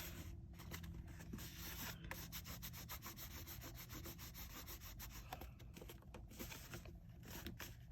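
Glued paper rose petals being rubbed between the fingers, a close, quiet, continuous papery scratching and brushing with rapid repeated strokes and no talk.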